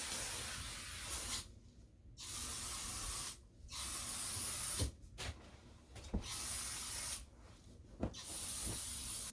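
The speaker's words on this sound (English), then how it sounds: "I'm going to spray them down with some Lysol fabric disinfectant first." Repeated hissing bursts from a can of Lysol fabric disinfectant sprayed onto polyester pillows, several long sprays separated by short pauses, close and steady with no talking.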